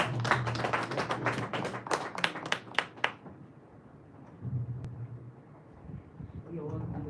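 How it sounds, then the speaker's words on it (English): Audience at the SHE Global Awards 2024 at the Dohaven Hotel in Accra, Ghana, gives a panelist a short burst of clapping that quickly fades into quieter room noise and talk. "a round of applause for her"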